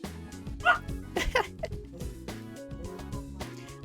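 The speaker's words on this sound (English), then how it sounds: "Like the specific way that Sammy barks when he's playing with her" Sammy the dog playfully barks and yips while wrestling with another dog. Several short, quick barks come in bursts over a busy, close background of shuffling and squeaky whimpers.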